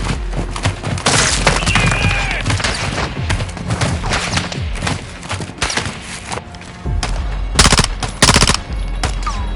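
Sustained automatic gunfire and sharp shots, including a sniper shot, in the video game Call of Duty Modern Warfare 2, loud and continuous with clustered bursts and impacts, some louder cracks near the end.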